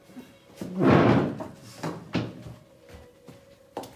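A heavy door in a chateau slams with a loud, booming thud, followed by several sharper knocks and clunks spaced irregularly, close by.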